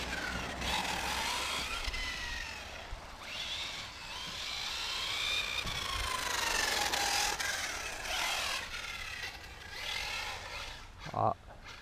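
Hobao 10 RC car running on a track, its motor whining and rising and falling in pitch as it speeds up and slows, fairly close, with a sharp brief knock near the end and voices faintly present.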